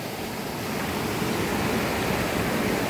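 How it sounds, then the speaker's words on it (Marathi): Steady rushing of flowing river water at a Ganpati immersion site, a constant dense hiss with no voices, holding even throughout. "पाणी पण एकदम वाहत आहे"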